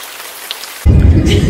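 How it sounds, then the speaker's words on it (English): Heavy rain pours down in a sudden loud burst during a storm with thunder and lightning, starting faint and then roaring up close and dense. "It do be properly pissing down right now."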